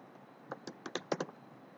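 Keys clicking on a computer keyboard as a word is entered, about seven quiet, irregular taps over a faint room hum with no voices.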